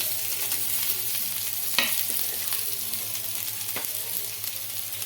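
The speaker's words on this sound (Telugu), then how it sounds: "చిన్నగా కట్ చేసి పెట్టుకున్న ఆనియన్స్ అయితే వేసుకుంటున్నాను" Finely chopped onions fry in hot oil in a kadai, giving a steady, close crackling sizzle throughout, with a couple of light stirring clicks.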